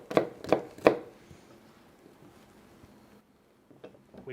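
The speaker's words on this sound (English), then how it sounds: "I'm going to cut up a carrot, cut up some celery, cut up a little bit of garlic, cut up a little bit of onion." Three sharp knife chops on a cutting board ring out in quick succession, then a quiet pause before a couple of softer taps, from chopping carrot, celery, garlic and onion.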